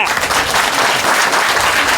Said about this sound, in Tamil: எல்லாரும் ஜோராக கைதட்டுங்க